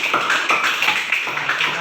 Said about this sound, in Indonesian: beri tepuk tangan untuk kelompok Juan